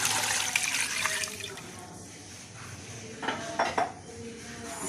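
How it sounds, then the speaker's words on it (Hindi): Two litres of water poured into a pressure cooker holding beef for nihari, a steady splashing rush at first that tapers off, then a few clinks of metal pots and utensils nearby, with no voices. "उसके बाद मैं इसमें पानी डालूंगी। 2 लीटर पानी है ये।"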